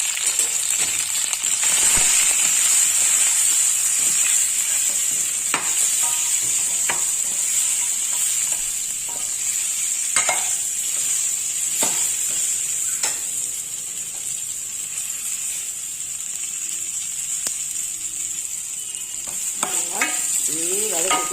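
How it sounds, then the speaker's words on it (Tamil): Brinjal sautéing in hot oil with turmeric, a steady close sizzle and frying hiss punctuated by scattered scrapes and taps of stirring, with no talking. "எண்ணெயிலேயே வதங்கணும் நல்லா இப்போ அதில் அரை டீஸ்பூன் மஞ்சள் தூள் நல்லா வதங்கிடுச்சு"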